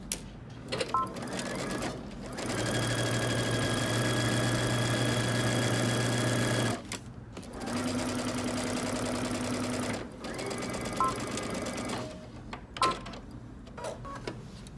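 A sewing machine back stitches from the hem of a garment, running in a steady motorized whir. It starts and stops a few times and pauses briefly between runs. The machine is close and no one talks.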